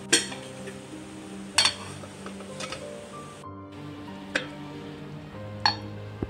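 A lid set on a cooking pot of milk and dates simmering with butter, several sharp metallic clinks spread over a few seconds against a quiet kitchen background.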